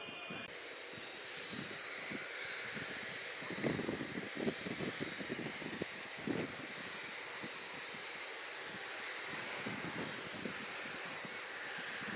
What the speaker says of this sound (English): Teo with the Danish F-16, bringing the RIAT 25 flying to a close